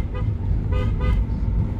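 An aftermarket Seger car horn sounds in a few short, loud, brassy honks over a steady rumble of engine and road noise.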